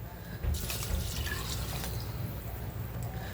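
Water pours from a tap or jug into a pot of washed rice for a Lucknowi mutton pulao, a steady close splashing stream that runs throughout without any voices.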